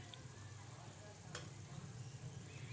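Kalonji hair oil cooking in a pan gives a faint, steady, close sizzle and hiss that continues without a break.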